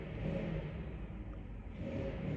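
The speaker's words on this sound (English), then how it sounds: "somebody's revving a leaf blower right outside my window" Leaf blower revved just outside a window on a windy morning after a storm, a continuous droning engine whir that rises and dips slightly in pitch, heard indoors at moderate loudness without any talking over it.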